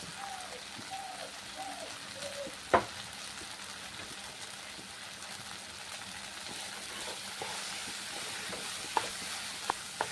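Onion and cashew paste fries in a pan for a rohu fish malaikari, giving a steady, moderately loud sizzle with a few sharp clinks of a utensil against the pan.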